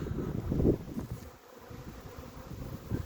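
A swarm of honeybees buzzes steadily in a low, dense drone, louder around the first second, with faint wind noise and no talking.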